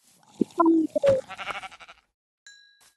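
Goat bleats from the video game Minecraft, a few short, nasal calls close together in the first second or so, followed by a pair of brief electronic chimes near the end.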